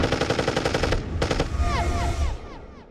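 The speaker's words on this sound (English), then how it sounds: "Today we're shooting with a 40 caliber Glock" Rapid bursts of gunfire from a .40 caliber Glock pistol, a dense string of sharp reports in the first second followed by another volley, with ringing echoes trailing off.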